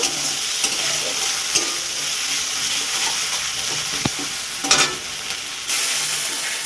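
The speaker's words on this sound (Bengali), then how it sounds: "মশলাটাকে বেশ ভালো করে কষিয়ে নিতে হবে" A masala paste of onion, ginger, garlic and tomato with a little cumin powder fries in a pan, giving a steady close sizzle broken by occasional scrapes and knocks of stirring.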